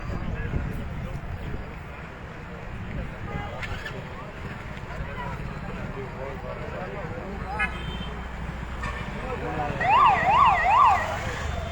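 Emergency sirens of ambulances and fire engines at an oil factory fire, a wailing siren rising to a loud close rapid warble near the end, over engine rumble and people talking.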